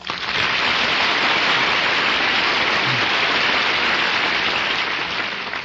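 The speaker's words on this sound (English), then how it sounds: "that's the biggest round of applause I ever got" A studio audience applauding for a 1950 radio variety show, a dense, loud and sustained roar of clapping from many hands that fills the whole stretch without a break.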